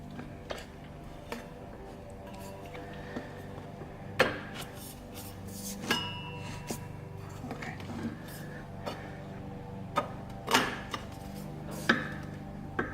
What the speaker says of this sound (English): I just tap the 2 pipes here and I tap the muffler bit until everything slides in.